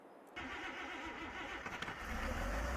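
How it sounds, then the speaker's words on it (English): A tractor engine in Farming Simulator 22 cranks and catches after a quiet moment, then settles into a low, building rumble that grows louder toward the end. "Let's get the tractor started."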